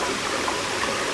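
A waterfall's continuous rushing hiss, close and steady, with a bright splashing wash and no voices over it.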